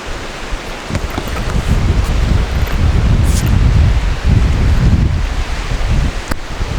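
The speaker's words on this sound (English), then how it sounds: "Tail, please do not go over that waterfall." A rushing river and waterfall in the Colorado high country in the rain, loud and steady broadband roar filling the whole stretch, with no voices.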